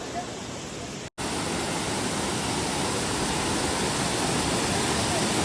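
Mawsawa waterfall in Cherrapunji roars in a dense, steady wash of rushing water, loud and unbroken apart from a momentary dropout near the start.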